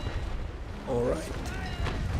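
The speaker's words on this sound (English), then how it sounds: "Just a small broadside into his healing side" Cannon fire from a sailing warship in the naval battle game Naval Action, a Trincomalee frigate engagement: a few deep booms roll out over a steady rumble while someone talks over them.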